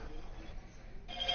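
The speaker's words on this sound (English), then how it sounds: "Oh, that's my phone going off." A brand-new phone sounds its unchanged default ringtone, a thin, steady electronic tone sitting quietly in the background, with a brighter chiming pattern coming in near the end.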